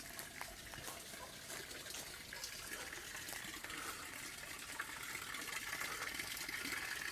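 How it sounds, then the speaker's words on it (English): Pool water runs out through an overflow drain in a steady, faint gush, recorded from nearby outdoors at a house. "the water runs out instead of overflowing"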